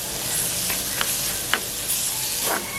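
Curry leaves sizzling loudly in hot oil in a single pot for chicken kulambu, a dense continuous fry hiss with a few sharp crackles and pops and light stirring scrapes.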